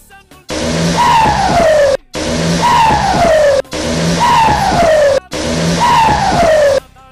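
A Volkswagen Golf 4 revs hard and skids at a car meet in a school yard, four loud bursts of engine roar and squealing tires, each lasting about a second and a half, separated by brief silences.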